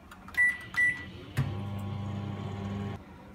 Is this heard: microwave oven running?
yes